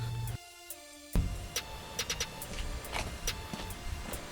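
Pop-up headlights on a Porsche 944 whir briefly with a short electric motor hum, followed by clicks and mechanical ticks as the units settle, close and fairly quiet.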